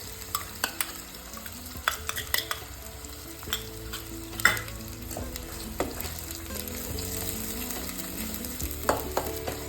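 A spoon stirs and scrapes egg masala curry with ginger garlic paste in a hot pan, a steady sizzle running underneath frequent sharp metallic scrapes and taps at close range.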